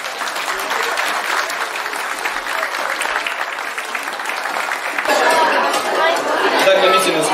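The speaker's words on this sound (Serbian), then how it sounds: "Nemojte štediti danas aplauzem, a počastitmo ih sve." An audience at a children's hat parade in Novi Bečej applauds steadily, dense clapping with crowd chatter underneath, swelling a little louder toward the end.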